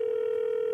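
Telephone dial tone on a comedy show call segment: a single steady, unbroken hum held at even, fairly quiet level.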